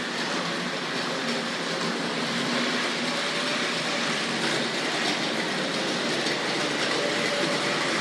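A Tri-ang RS11 model yard switcher pulls a string of small wagons along toy track, giving a steady, close, continuous rattle and whirring hum with no voices.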